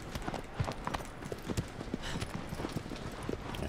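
Horse hooves pound in a steady galloping clip-clop in the remastered Shadow of the Colossus, a continuous rhythmic run of close, moderately loud footfalls over a wide outdoor wash of ambience.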